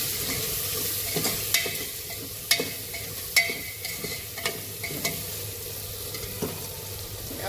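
Spices frying with chilli powder and coriander-cumin in a pan for masala pulao, stirred with a spoon: steady sizzling with repeated sharp scraping clicks against the pan, close up and without voices.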